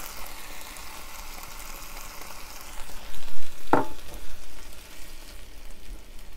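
Tomatoes, capers and olives sizzle softly in a frying pan, a steady low hiss with a brief clatter of stirring midway and no talking.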